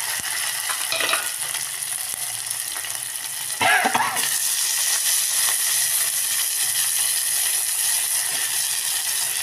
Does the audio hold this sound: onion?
yes